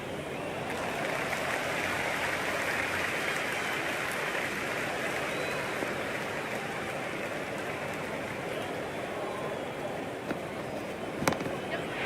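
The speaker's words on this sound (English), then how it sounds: "There's a buzz, a real buzz coming from the stands." A packed cricket stadium crowd in the video game Cricket 26, during an India vs England T20 match, keeps up a steady, loud roar throughout, with a brief sharper burst near the end.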